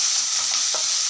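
Chopped onion frying in a pan for palak paneer, a steady close hiss of sizzling with a faint stir scrape near the end, no voices.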